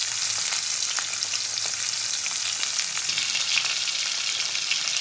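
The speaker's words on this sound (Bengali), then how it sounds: "এবার মাছগুলো খুব কড়া করে ভেজে নেবো একটু" Tangra fish frying hard in hot oil, a steady dense sizzle with crackling pops running throughout, close and moderately loud, with no voices.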